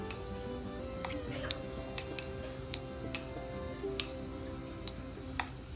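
Spoon clinking against a bowl while cauliflower is tossed with oil for air-fryer kebabs, a series of light, sharp metallic taps spaced irregularly over a soft background hum, fairly quiet and close.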